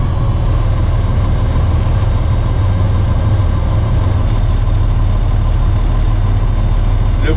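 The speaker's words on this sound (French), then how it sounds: "La première étape va être de baisser les révolutions moteurs au minimum." A truck engine brought down to minimum revs at idle, a loud steady low rumble that holds unchanged the whole time, with a faint voice underneath.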